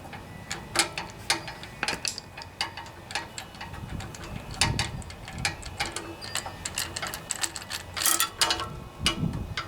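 Phillips screwdriver turning screws on a Tecumseh Enduro OHV 5 horsepower engine, giving a run of close, crisp ratcheting clicks and scraping metal taps at an irregular rhythm, with no talk.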